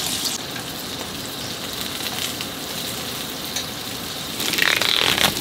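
Scallops sizzle in a frying pan at a campsite, a steady close crackle and hiss of hot oil that grows louder and brighter toward the end.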